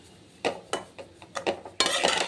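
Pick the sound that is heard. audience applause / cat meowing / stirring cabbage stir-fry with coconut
stirring cabbage stir-fry with coconut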